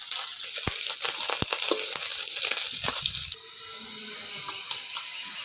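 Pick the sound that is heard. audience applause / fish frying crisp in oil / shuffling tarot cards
fish frying crisp in oil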